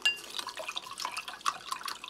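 Cold water is poured into a glass to top up a mixed drink from a British Army cold-climate ration pack, heard as faint, brief trickling and splashing close by.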